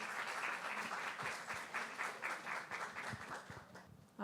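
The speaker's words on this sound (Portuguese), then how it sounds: "Por favor, um forte aplauso para Joana Fialho, por gentileza." Audience applause at a cultural event, a soft, continuous patter of many hands clapping together, fading slightly near the end.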